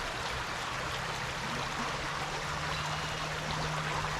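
Water flows under a bridge through reeds in a steady, dense rushing wash that stays at an even level throughout, with a low hum underneath and no voices.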